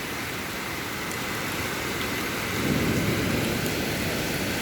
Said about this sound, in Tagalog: Yan, lalo pang lumakas ang ulan.